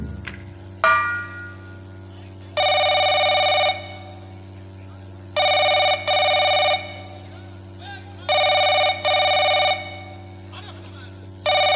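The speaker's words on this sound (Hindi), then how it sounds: "राजकुमारी नेहा का फोन" A telephone rings in three long harmonic bursts, each split into paired rings, over a steady low hum during a Bhatnosa nautanki folk theatre stage show; a brief voice or thump comes before the first ring.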